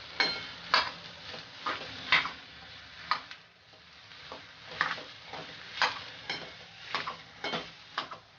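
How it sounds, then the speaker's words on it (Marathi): Potatoes and coriander being stirred into a spiced tempering in a pan for bread patties filling, with repeated scraping strokes and soft clinks over a low sizzle, close and moderately quiet, no talking. "आता त्यामध्ये आपण ही बटाटी टाकणार आहे आणि त्यामध्ये आता मी कोथिंबीर पण टाकणार आहे आणि आता या सर्वाला आपण व्यवस्थित मिक्स करून घेऊया"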